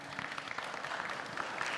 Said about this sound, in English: Thank you for the applause to the candidates.